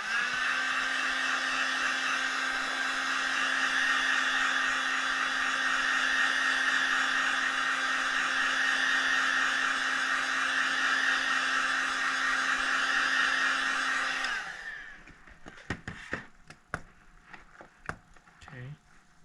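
A heat blower warms the battery adhesive inside an iPhone 6S during a battery replacement, roaring steadily and loudly for about fourteen seconds before cutting off, followed by a few small clicks of tools on the phone.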